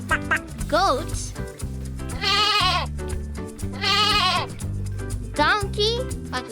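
Loud, wavering bleats from a goat come in two long bursts over a cheerful music bed, with shorter sweeping tones around them.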